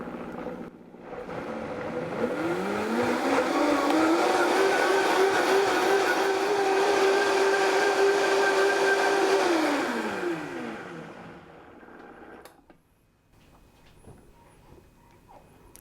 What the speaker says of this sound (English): I'm going to turn it up to high, and I'm going to blend it for probably 30 seconds to a minute